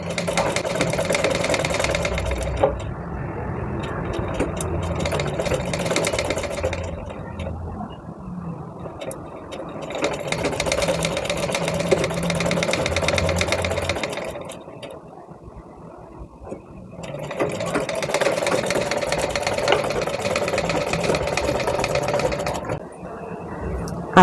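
Sewing machine stitching seams on a fabric baby cap, running in bursts of steady mechanical whirring separated by short pauses, close and clear with no talk over it.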